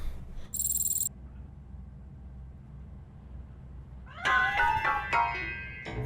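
Cat in RoboCop: Rogue City hiding inside a piano, a short high burst early on, then quiet, then a run of several meows and clatter near the end.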